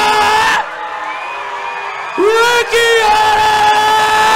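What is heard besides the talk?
fight crowd cheering wildly for fighter Rikihana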